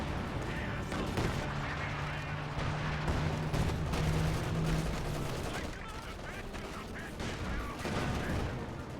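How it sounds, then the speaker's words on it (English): Calliope rocket barrage in Company of Heroes 2 (World War II strategy game) rumbles in as a dense, continuous run of overlapping blasts and crackling impacts, sustained across the whole stretch with a low steady drone beneath. "Calliope barrage coming on in does roll some misses."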